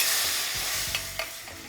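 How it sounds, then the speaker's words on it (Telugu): Hot tempering poured into tomato rasam sets off a loud, broad sizzle that fades gradually, with a couple of small spoon clinks, and no one speaks. "ఇప్పుడు తాలింపు తీసుకొని రసంలో తాలింపు వేసేయండి"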